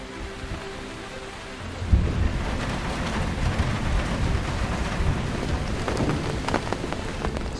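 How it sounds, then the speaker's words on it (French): Approaching thunderstorm at a carp-fishing spot: steady rain patter on surfaces, then a deep rolling thunder rumble nearly two seconds in, followed by heavier rain and drumming drops. "un orage approche"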